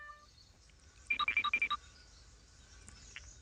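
A mobile phone ringtone sounds at a closed shop as a quick, bright burst of about eight rapid electronic beeps lasting under a second, fairly close over a quiet background.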